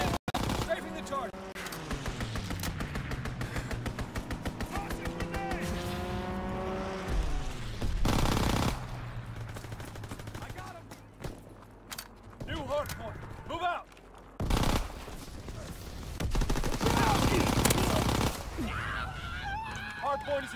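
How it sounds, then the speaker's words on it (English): A fighter aircraft strafing run in Call of Duty WWII multiplayer Hardpoint mode: rapid bursts of gunfire and engine sweeps mix with ongoing battle noise, loud and continuous, with game voice callouts talking over it. "Call for a strafing run! Fighter pilot in! Strafing the target!"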